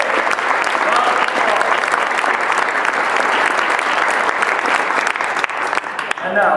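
Sustained audience applause at a victory celebration, a dense continuous wash of many hands clapping at full volume throughout, thinning slightly at the end.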